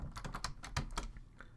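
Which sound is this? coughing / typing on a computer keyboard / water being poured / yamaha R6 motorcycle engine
typing on a computer keyboard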